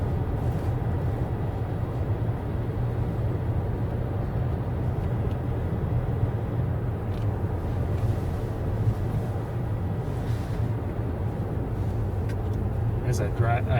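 A car driving through a snowy landscape makes a steady, continuous engine and road hum at constant volume throughout.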